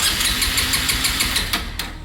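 A motorcycle engine cranks on power from a portable jump starter with a rapid, rhythmic churning pulse for about two seconds, loud and close, without catching.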